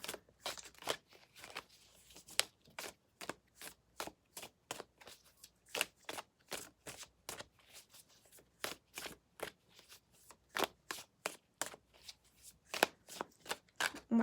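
Tarot cards being shuffled in a rapid, steady run of crisp riffling snaps, close and alone, continuing with only brief pauses throughout.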